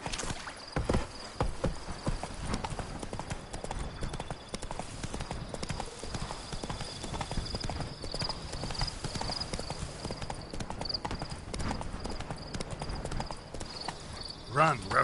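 Roach, Geralt's horse in The Witcher 3 Blood and Wine, gallops with fast, continuous hoofbeats over fifteen seconds, loud and close, over game ambience and a faint tonal hum.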